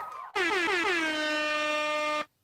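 A loud air horn blast, sharp start then a steady blaring tone held for nearly two seconds before cutting off abruptly.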